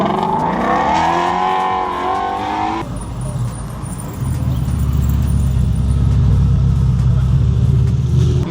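A Duster car arriving with a convoy of about twenty cars at a car meet rolls past with a loud, steady engine and road rumble that swells and holds, following a few seconds of voices.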